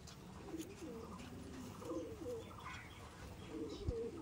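Soft, low racing pigeon coos roll and repeat quietly in the background in a loft, with a faint thump near the end.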